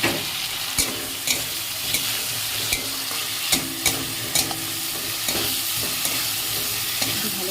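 Spice masala sizzles and fries in oil for egg curry, a steady hiss with regular scraping stirs of a spoon against the pan, close and without talk.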